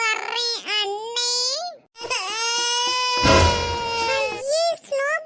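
A cartoon baby character wails in a high, tearful voice with several sobbing cries and a brief pause, likely a voiced imitation of an infant crying, loud and close.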